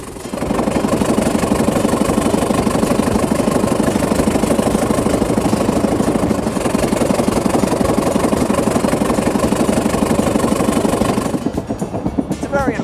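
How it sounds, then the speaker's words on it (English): A 1906 Stanley Steamer steam-powered racing car runs close by, a loud continuous rapid chuffing pulse that holds steady for most of the stretch before tapering off near the end. "the Stanley Steamer was such a rush. Awesome power, and all without the help of an internal combustion engine."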